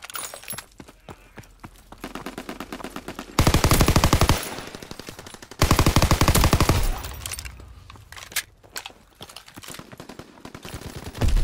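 Gunfire in a WWII video game: loud, dense bursts of rapid machine-gun fire with separate shots in between, two long sustained volleys dominating the middle, and another burst starting at the end.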